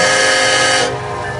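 A westbound manifest freight train rolls past close by on a freezing day, a loud sustained horn blast sounding over the steady roar of the cars before easing slightly.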